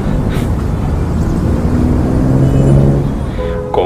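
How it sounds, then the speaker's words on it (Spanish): Street traffic in Jakarta forms a steady, loud wash of engine rumble and road noise, with passing vehicles and a faint horn-like tone rising near the end, no voices. "Como estos sonidos del tráfico tan típicos de Asia"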